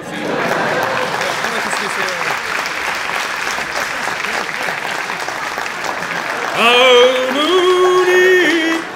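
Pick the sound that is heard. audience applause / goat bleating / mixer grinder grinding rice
audience applause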